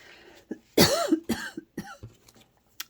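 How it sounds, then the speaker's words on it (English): An adult indoors gives a short burst of dry coughs, three or four close, harsh hacks with a throat-clearing quality, fairly near and alone against a quiet room. "I have a dry cough"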